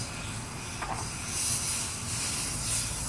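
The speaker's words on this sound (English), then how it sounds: "You can hear it's bleeding again, getting the air out of there." Continuous airy hiss of air bleeding out of an Intex sand filter pool pump, steady and fairly loud, swelling slightly toward the middle and end.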